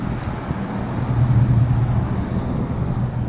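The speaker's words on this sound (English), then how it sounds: "got a guy with a very mean sounding 5-liter Mustang" A mean-sounding 5-liter Ford Mustang engine rumbles low and steady nearby, swelling slightly midway, under outdoor wind noise.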